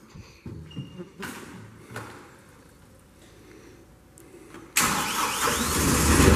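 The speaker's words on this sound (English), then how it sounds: "We're gonna fire up this Kohler engine." Kohler engine on a Princeton PB55.3 truck-mounted piggyback forklift cranks with a few clanks and shuffles, then catches and roars steadily to life, close and loud.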